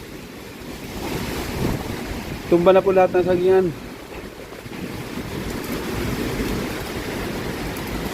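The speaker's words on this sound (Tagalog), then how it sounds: "Ganito po kalakas ang bagyo. Ulan, hangin." Typhoon wind roars steadily with broadband rushing noise and rain, while someone speaks briefly partway through.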